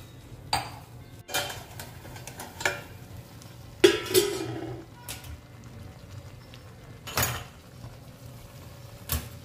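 Bhagar (barnyard millet) cooking in a pot on a low gas flame is stirred with a metal spoon, giving intermittent scraping clinks against the pot over several seconds, quiet and close, with no talk.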